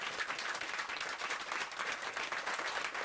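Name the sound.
studio audience applause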